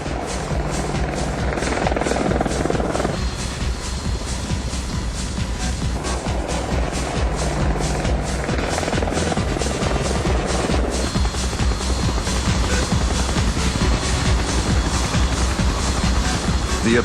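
A Longbow Apache attack helicopter flying, its loud rotor chop and turbine whine steady and near, with a rough shift in tone partway through and a voice faintly under it.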